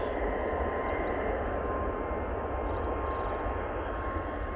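An EasyJet airliner at Manchester Airport in low visibility produces a steady, distant jet engine roar that holds evenly throughout at a faint level.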